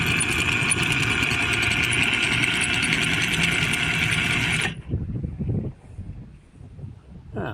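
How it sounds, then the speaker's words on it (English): A Lewmar Pro 1000 anchor windlass motor runs loud and steady as it lowers the anchor, a constant mechanical whine and rumble that cuts off sharply partway through, leaving quieter rattling and clunks. "So we've got the new anchor winch on, and we've got our foot pedals in position."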